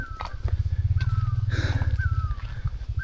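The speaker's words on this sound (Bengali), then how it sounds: "পাখি ডাকছে" Birds call repeatedly on a quiet footpath through the hills at Sillery Gaon, with short whistled chirps recurring over a steady low rumble close by.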